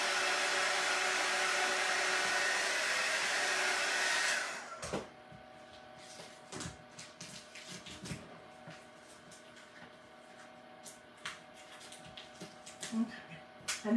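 A heat gun blows on tape on a book cover with a steady loud rushing hiss for about four seconds, then cuts off, leaving quiet handling noises and faint rustling.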